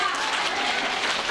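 A church congregation claps together in dense, continuous applause that stays steady and fairly loud through the short moment.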